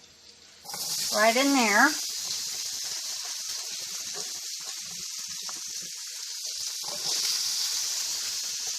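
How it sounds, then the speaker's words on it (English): Chicken pieces drop into hot dripping butter and set off a loud, steady sizzle that keeps hissing under a short stretch of talk, then swells again near the end. "I'm going to put these into the dripping butter because you want to fry them up a little bit"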